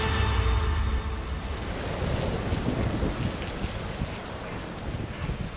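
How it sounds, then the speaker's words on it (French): Heavy rain pours down in a steady, dense hiss with a deep rumbling undertone, loud and continuous throughout without any voices. "Il pleut très fort."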